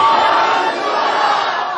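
A large crowd at an annual Giyarween Sharif religious gathering in Walton, Lahore, chanting the slogan Ya Rasool Allah loudly in unison, a dense, sustained roar of many voices filling the whole clip.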